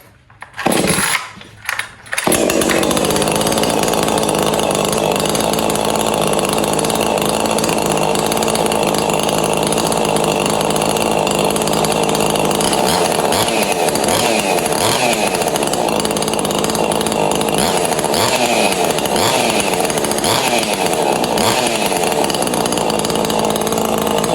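A Neotec 843 chainsaw, a Husky 543xp clone with a ported, modified engine, pulled over a few times before it catches, then roars loudly and continuously up close with repeated throttle blips.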